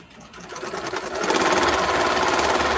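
A sewing machine stitches a quilt block, its motor humming in a steady, fast rhythmic whir that builds up and then runs continuously and close by, with no talking.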